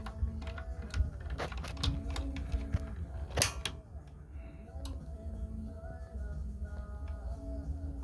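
The pilot igniter on a gas water heater gives a scatter of small, sharp ticks and one louder click, close up, over a low background rumble.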